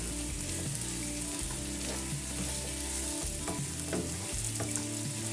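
Carrots and potatoes fry in hot oil with added spices, giving a loud, steady sizzle throughout, with repeated scraping and clinking as a utensil stirs the pan close up.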